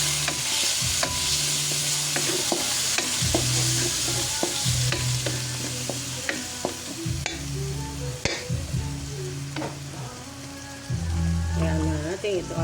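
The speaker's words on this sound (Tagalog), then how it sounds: "lagyan natin ang ating kamatis" Tomatoes sauté in a pan of onions for Bicol express, a loud continuous sizzle with busy scraping stirs and utensil knocks, and a voice talking over the cooking.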